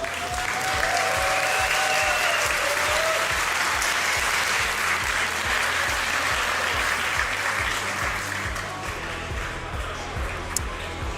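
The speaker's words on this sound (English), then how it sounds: "Can we get a round of applause from the crowd?" Sustained crowd applause fills a Yu-Gi-Oh! card tournament hall at the Berlin European qualifier finals, a dense steady roar of clapping lasting throughout under a faint background voice.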